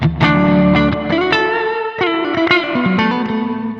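An electric guitar plays through a Zoom G3Xn multi-effects processor set to a high-density reverb, its distorted chords and single notes trailing into a thick, lingering wash, loud and close, no talking.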